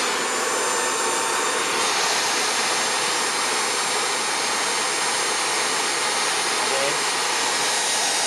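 A three-phase synchronous AC generator spins at a rated 8,000 RPM, giving a steady, loud, broadband whine and rush that holds unchanged throughout with no pauses.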